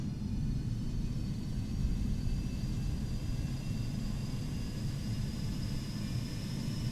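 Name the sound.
aircraft auxiliary power unit (APU) running at Valencia airport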